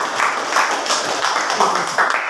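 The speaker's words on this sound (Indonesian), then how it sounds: "Tepuk tangan untuk Vita." Classmates clap for a student in a high school civics class, a brief burst of uneven hand claps filling the room, fairly close and lively.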